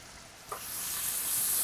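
Bacon frying in a pan at home gives a steady, close sizzle that swells and brightens, with a faint clink of a utensil just before it rises.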